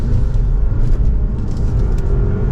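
Inside a 2023 Honda Accord Hybrid Sport with a 2-liter 4-cylinder, a steady low road and engine rumble fills the cabin while accelerating up to speed, loud and continuous with no talk.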